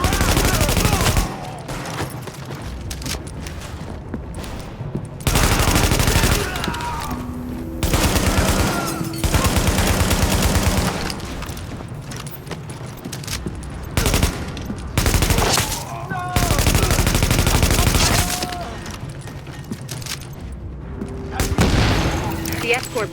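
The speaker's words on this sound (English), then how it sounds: "The escort party's taking heavy fire from the roof." Heavy automatic gunfire from a rooftop gunner in Tom Clancy's The Division, long loud bursts of rapid shots separated by short pauses, with speech in the mix.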